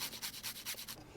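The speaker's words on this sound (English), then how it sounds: "I'll just use the same grater for the garlic" Garlic is grated in quick rhythmic strokes, about seven close rasping scrapes against a metal grater before it stops.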